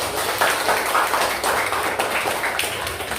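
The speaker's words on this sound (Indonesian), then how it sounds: "Tepuk tangan buat kita semuanya." Students in a school classroom clap together in a dense, steady round of applause that holds fairly evenly for a few seconds before easing off slightly.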